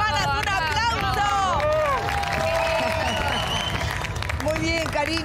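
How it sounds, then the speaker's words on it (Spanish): Studio audience applause on a live Argentine afternoon TV show, a broad wash of clapping filling the room while several voices talk loudly over it throughout. "¡Un aplauso!"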